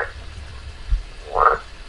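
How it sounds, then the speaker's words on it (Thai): A single deep, resonant croak from a giant frog in a mountain forest at night rises briefly over a quiet background, close and fairly loud. "มันร้องอบ รับเสียงที่ลอยมาแล้วก็กระโดดเหย่งๆห่างออกไป"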